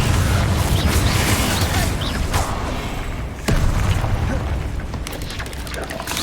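Confringo blasting spell going off during Hogwarts Legacy combat, heavy booming blasts and thuds in a loud, dense mix of game effects and music, with sharp cracks standing out.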